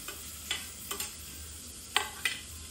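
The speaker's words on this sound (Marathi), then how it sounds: "कांदा टाकल्यानंतर तो कांदा आपल्याला लालसर करून घ्यायचा आहे." Chopped onion fries in hot oil in a pan with a soft, steady sizzle. A few sharp clicks and scrapes of a spoon stirring break through the sizzle.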